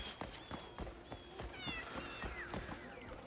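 A cat in the open-world video game Crimson Desert meows several times, thin rising and falling mews over soft game ambience and footsteps, with a person's voice speaking quietly at times.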